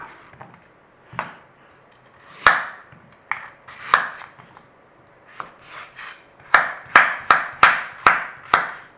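A knife chops carrot into small cubes on a board, with sharp, close strikes that come sparse and irregular at first, then in a quick, even run of about eight cuts.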